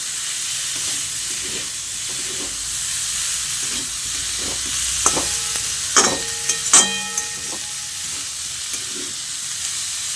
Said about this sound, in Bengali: প্রথমে অল্প একটু দিয়ে আলু মশলার সঙ্গে ভালো করে নেড়ে চেড়ে মিশিয়ে নিতে হবে